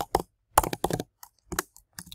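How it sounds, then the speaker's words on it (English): Fingers type on a computer keyboard in irregular bursts of crisp, close clicks and taps, broken by short silent pauses, with no voices. "I'm typing since nothing is coming to mind right now"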